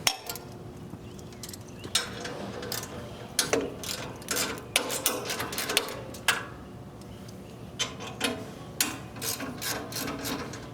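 Metal clicks and ratcheting from loosening a bar on a combo gutter machine during a 5-to-6 changeover, a steady run of close, sharp mechanical ticks and clanks with a faint background hum and no talk.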